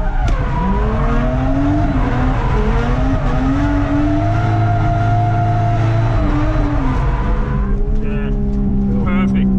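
Car drifting at Ebisu circuit, loud engine revving and rising as the handbrake drops and the throttle comes on, with tire squeal throughout and a voice talking over it.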